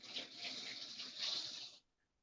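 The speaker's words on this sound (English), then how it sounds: "I'm gonna add a little bit of water to it" Water pours into a blender jar for grinding in a home kitchen, a close, hissing splash lasting under two seconds before stopping abruptly.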